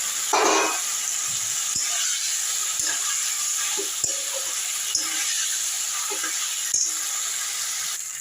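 Boiled potato, papaya and bottle gourd go into cooked-down masala for a catla fish curry, producing a steady, even frying hiss punctuated by a few sharp utensil clinks.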